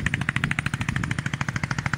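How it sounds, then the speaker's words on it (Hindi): Tube well pump engines run in farm fields, putting out a fast, steady, rhythmic thumping chug at moderate distance, fairly faint and alone. "देखो जी हर पास टूबलों की आवाज़ आ रही"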